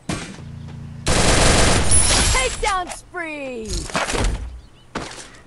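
Loud bursts of machine gun fire in a ranked solo-versus-squad battle royale shooter, with rapid volleys, sharp thunks and sweeping game effects between the shots.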